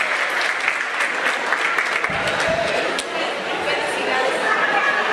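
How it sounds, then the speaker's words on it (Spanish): An audience claps steadily at a parents' school certificate ceremony, a dense continuous patter of applause with faint chatter mixed in and a brief low rumble partway through. "Fuerte el aplauso para Erika."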